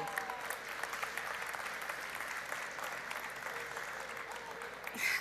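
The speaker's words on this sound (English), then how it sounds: "yes, you can clap, that's okay" Audience at a Canadian municipalities federation gathering applauding for the prime minister, a broad, even roar of clapping from a large crowd, sustained and fairly distant, swelling briefly at the end.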